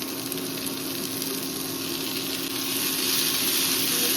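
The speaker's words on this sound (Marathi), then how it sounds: "आनी आतां घालता कांदो, बरो तळशिता" Onion frying in a pan for a Goan-style mixed bhaji, a steady, loud sizzling hiss close by that swells slightly toward the end, with no talking.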